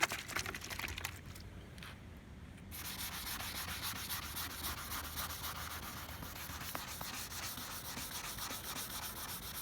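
Steady abrasive rubbing of a sanding block over a spray-can painted car surface, continuous back-and-forth scraping with no talking.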